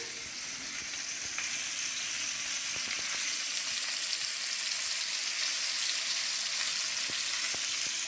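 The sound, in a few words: chicken wings frying in oil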